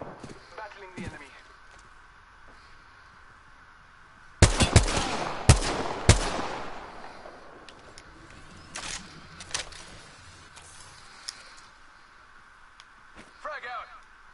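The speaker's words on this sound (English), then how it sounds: "Shot fired at me. Battling the enemy." In the Apex Legends battle royale game, a cluster of sharp gunshots rings out in a quick burst, followed by a few scattered shots while someone talks over the gameplay.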